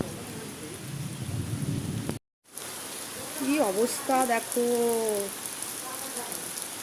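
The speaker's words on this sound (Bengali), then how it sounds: "আমাদের এখানে অলরেডি বৃষ্টি শুরু হয়ে গেছে" Steady rain hisses throughout, broken by a brief dropout, while a person speaks over the downpour.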